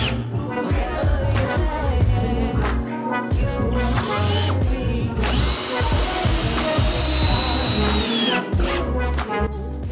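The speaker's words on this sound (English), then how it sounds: "For each board we put three screws in both sides, and here we're doing that right now." Power drill driving wood screws into boards for a DIY home theater floor riser, a loud continuous whirring drive with brief pitch shifts and short pauses between screws.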